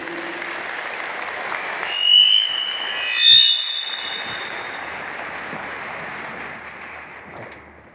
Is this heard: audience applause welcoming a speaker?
yes